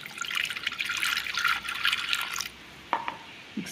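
A tumbler of water poured into a mix being prepared for a palm jaggery health drink, a steady close splashing trickle for about two and a half seconds, followed by a couple of light drips and clinks.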